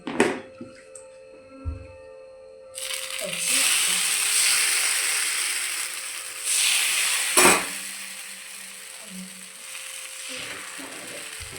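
Breakfast cooking in a home kitchen, a pan sizzling steadily for several seconds after a few clinks and knocks, with a sharp clatter partway through, heard alone and fairly close.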